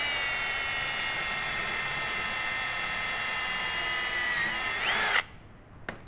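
A power drill boring through a panel, guided by a drill bushing hole finder, gives a steady, close, high-pitched whine for about five seconds, then rises briefly and cuts off, leaving a quiet workshop.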